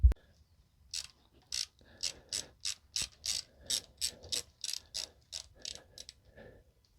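A ratchet wrench turning bolts on a Harley-Davidson M8 engine, squeezed in between oil lines, gives a series of about fifteen crisp, close clicking strokes in a quick, even rhythm after one sharp knock at the start.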